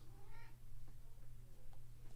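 A house cat gives a single short meow, faint against a steady low electrical hum in a quiet room.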